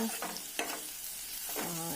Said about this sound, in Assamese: এতিয়া আমাৰ যিখিনি আলু ভাজি আছিলে সেইখিনি এবাৰ ভালকৈ লৰাই লওঁ।